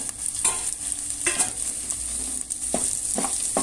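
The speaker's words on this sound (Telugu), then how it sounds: "కలిసేటట్టు తిప్పండి ఇలా" Spiced mutton kheema curry with salt, turmeric and garam masala being stirred in a pan, giving repeated scraping strokes over a steady sizzle, close by, with no talking.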